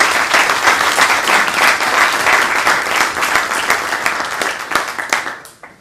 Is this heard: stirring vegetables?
no